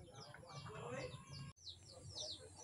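Chickens clucking softly around a rural Philippine farmyard while being fed water spinach, faint scattered clucks and chirps under low background noise.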